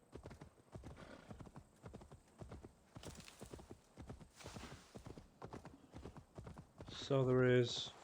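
A horse in a video game gallops with steady, rapid hoofbeat clip-clops close by, then lets out a loud whinny near the end.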